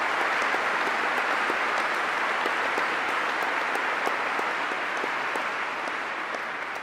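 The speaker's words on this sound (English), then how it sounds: "All applause for you." An audience applauds a speech with steady, dense clapping that holds at an even level for several seconds, with no talking over it.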